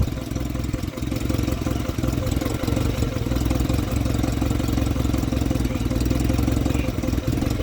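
A project vehicle's engine runs under its own power, a loud, steady idle with a rough, knocking mechanical chatter throughout.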